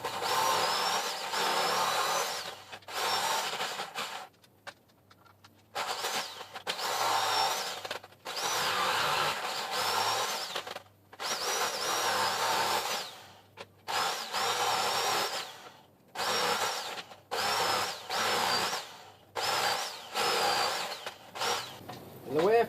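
A power tool whines through lantern slats for Halloween lanterns in repeated bursts of several seconds each, separated by short pauses, loud and close with a rising and falling pitch as it cuts.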